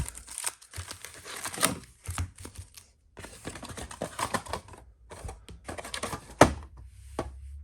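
Trading card packs from a 2006 Upper Deck Legends box are pulled out one after another, giving a run of close, crinkly foil rustles and soft papery taps with brief pauses between handfuls.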